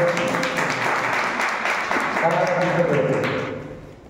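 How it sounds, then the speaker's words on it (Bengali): A church congregation at a Sunday service claps loudly together, a sustained crowded patter under a preacher's voice before fading out at the end. "আমরা জোরে হাততালি বাজাবো আমরা ঈশ্বরকে।"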